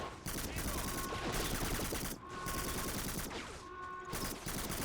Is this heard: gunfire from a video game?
yes